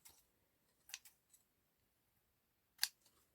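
Scissors trim lace ribbon for a Prima Christmas treat pouch craft in a few quiet, crisp snips, close and isolated with short pauses between cuts.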